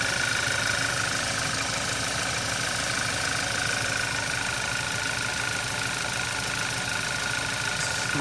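A 2014 Audi A4 2.0T engine idling after a cold start, a steady continuous hum with a faint high whine, loud and unbroken throughout with no talk.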